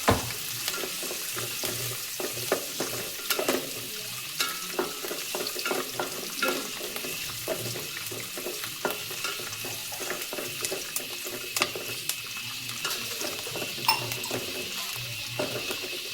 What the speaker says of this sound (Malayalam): എല്ലാം കൂടെ ചേർത്ത് നന്നായിട്ടൊന്ന് വഴറ്റി വെക്കുക.